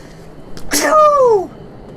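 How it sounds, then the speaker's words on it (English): A single loud sneeze: a sharp breathy burst that trails into a falling, drawn-out voiced tone, heard up close and lasting under a second. "I sense a sneeze coming."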